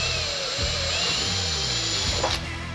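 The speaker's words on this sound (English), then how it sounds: "So we're just going to drill some holes now and get tapping." A power drill bores holes in metal while building a slide-out for a 4x4 truck camper, a steady high whine running throughout with shifting motor tones and a brief bite near the end.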